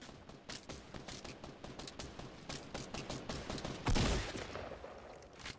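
Gunfire in the video game Fortnite: rapid, evenly spaced automatic shots rattle continuously, with a louder blast near the end, no voices.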